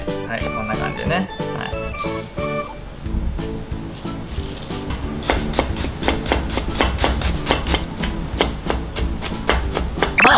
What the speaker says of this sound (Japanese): ニンニク、生姜はもう普通にみじん切りで大丈夫です。